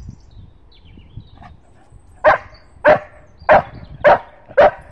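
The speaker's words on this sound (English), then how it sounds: "I'm glad my dog is barking because it will go while." A dog barks five times in a steady, evenly spaced run, loud and close, after a quiet stretch of faint outdoor background.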